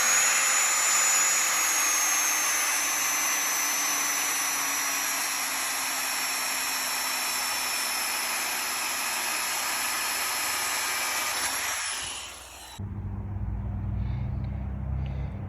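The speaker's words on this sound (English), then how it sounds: "that grinder made short work of it. I wasn't about to screw around with those old bolts. They're rusted, and I just cut them off" An angle grinder cuts through old rusted bolts on hardware being replaced, a steady loud high whine running continuously for about twelve seconds before it cuts out and a quieter low rumble remains.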